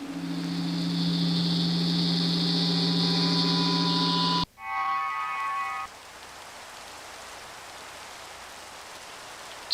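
Steady hiss of rain falls in the video game Minecraft, with a tonal hum over it that cuts out partway through. The rain wash carries on alone and evenly to the end, with no talk.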